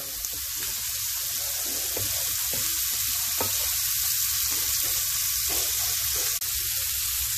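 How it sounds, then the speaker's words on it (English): Shrimp frying in a pan make a loud, steady sizzle with a few brief clicks and taps of utensils, close and continuous, no talking. "there is our shrimp. Let it cook for about 4 minutes."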